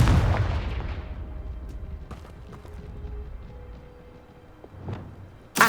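The Confringo blast spell in the Hogwarts Legacy video game bursts with a loud booming explosion that fades over about a second. Faint clatter and rumble follow, then a second sharp burst lands at the very end.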